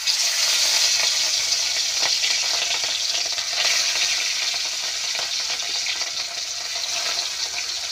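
Bhakur fish frying in hot oil: a loud, continuous, crackling sizzle that stays steady and dense throughout, close up, with no one talking.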